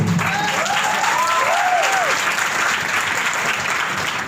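An audience claps steadily at a talk by a motivational speaker, a dense, even wash of applause with no breaks, a few faint voices rising over it.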